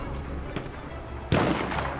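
An enemy artillery barrage in Battlefield 1 open beta on PC: a faint distant thump, then a loud heavy blast that rumbles on, over a steady low battlefield background.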